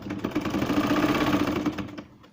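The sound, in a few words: sewing machine stitching a baby frock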